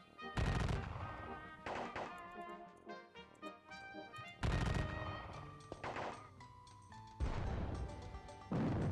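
Exchange of musket and cannon fire in a Civil War strategy game set at the Battle of Gettysburg, with several loud booming reports at irregular intervals standing out over a continuous tonal game soundtrack.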